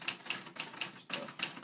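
Someone types crisply on a 1953 Remington Quiet-riter manual typewriter in good working condition. About seven evenly spaced keystrokes strike close to the listener, each a sharp clack with a brief decay, and there is no talking.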